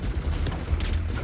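Incoming gunfire in the space game Star Citizen during a night raid on enemy anti-air weapons, a short dense burst of rumbling impacts and rattling shots close by.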